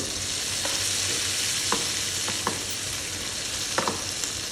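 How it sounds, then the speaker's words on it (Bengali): Chopped tomato and cashews frying in a pan for butter chicken: a steady, close sizzle with a few sharp spatula taps and scrapes scattered through it. "এটাকে একটু ভেজে নিব"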